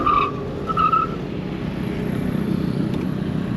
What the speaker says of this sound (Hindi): गाड़ी की ब्रेकिंग में मुझे दिक्कत नहीं लगी, लेकिन थोड़ा सा टायर स्किड कर रही है।